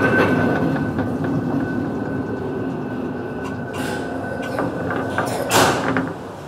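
A water-ballast funicular railway car rumbles along its track with a steady, moderately close rolling drone and faint squeals, then a couple of brief hissing bursts near the end, with no talk.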